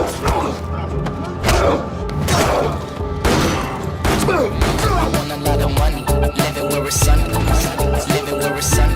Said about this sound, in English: The sound of gunfire attracts dozens of other thugs, and a shootout ensues.